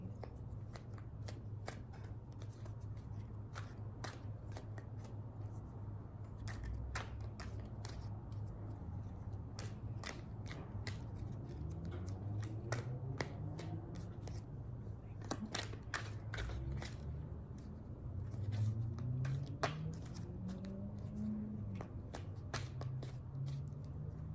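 A deck of tarot cards shuffled repeatedly, crisp riffles and soft slides with taps, recorded close, with a low steady hum underneath.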